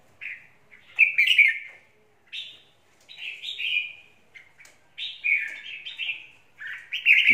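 A red-whiskered bulbul from limestone mountains in Lang Son gives bright, loud chirping phrases in short bursts with brief pauses, close and clear against a quiet background.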